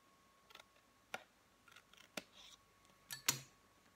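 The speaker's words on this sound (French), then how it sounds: "vous allez venir prendre vos petits ciseaux et couper juste cette partie en biais" Small scissors snip at an angle through paper while making a cardboard Advent calendar box, a few quiet, sharp clicks and snips spaced irregularly, close and faint with no talk.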